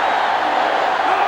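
A stadium crowd roars and cheers in NCAA Football 07 as a field goal attempt is set up at Iowa, a loud, dense wash of noise.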